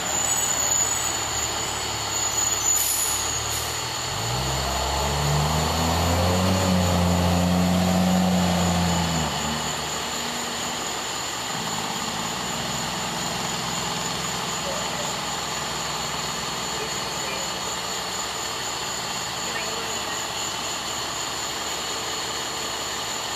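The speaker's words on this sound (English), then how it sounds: "The third one, ladder truck." A fire department ladder truck's diesel engine rumbles nearby, swelling louder for several seconds as it passes, then settling into a steady low drone under outdoor background noise, with people talking.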